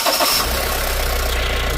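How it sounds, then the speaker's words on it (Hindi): Mahindra Bolero Pickup 1.3 BS6 engine catching after an EGR cooler repair: a short cranking burst, then the diesel settling straight into a steady, loud, low idle rumble, close by. "गाड़ी स्टार्ट हो गया"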